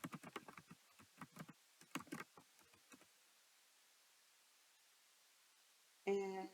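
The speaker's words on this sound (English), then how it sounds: "And I'm going to type here the Radley family." Quick, light keystrokes tap out a short burst of typing on a computer keyboard at close range for a few seconds, followed by near silence and a brief electronic sound at the end.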